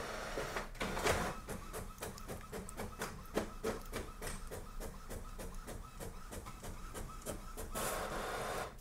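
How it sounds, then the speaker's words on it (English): An Epson WorkForce Pro WF-4820 printer makes a copy with a rapid, regular run of mechanical clicks and ticks over a steady motor whir, loud and close, with heavier feed noise at the start and end. "This printer is able to print quite quickly, I noticed."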